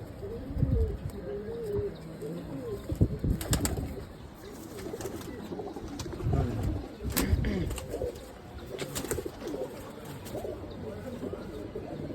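Pigeons coo softly and repeatedly, low throaty calls close by over a quiet background.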